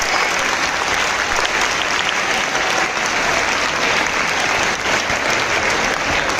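Loud, steady applause for participants at a school English declamation activity, many hands clapping at a constant level for over six seconds without a break.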